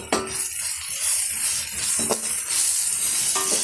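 Onions with ginger-garlic paste sauté in a pan for pepper chicken fry, a loud continuous sizzle broken by a few metallic ladle scrapes and clinks against the pan.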